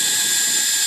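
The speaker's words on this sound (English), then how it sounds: "we use a drill, and we're going to find a spot in the tree, and we're going to drill it" A drill bores into a tree trunk while checking a termite nest, giving a steady, high-pitched whine that is close and continuous through a brief moment.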